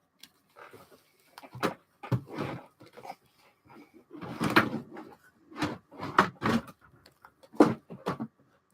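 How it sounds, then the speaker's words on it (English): A stubborn drawer is pushed shut in a home setting: a series of sharp wooden knocks and bumps come in uneven bursts across several seconds, close to the microphone and fairly loud, with no talking over them. "Close, you stupid drawer."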